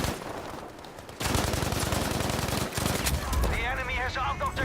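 Rapid gunfire in Battlefield V, the open beta, dense machine-gun bursts and fusillade running almost continuously and loud, with a voice talking over the later part.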